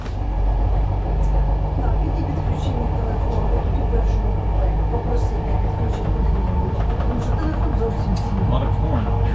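Steady rumbling of a train in motion, a continuous low roar with rattling and occasional clicks, heard from inside the carriage.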